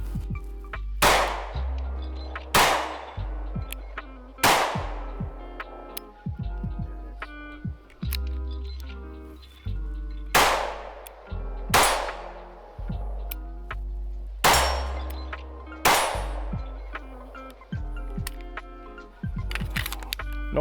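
A CZ P-10 M pistol fires roughly eight loud, sharp shots at a steady, unhurried pace, each crack followed by a ringing echo, with no talking over them.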